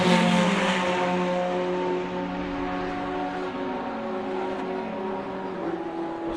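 Racing Porsches and other race cars slow into the pit lane mid-race, a sustained engine drone with shifting tonal whine heard at moderate distance, steady and without voices.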